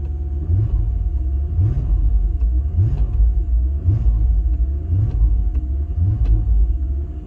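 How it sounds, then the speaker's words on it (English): A BMW M5 engine with a repaired VANOS runs cold from start-up, a loud, low, steady rumble with gentle rhythmic swells about every second, heard close up with no talk. "Don't want to rev it too much because it's obviously so cold"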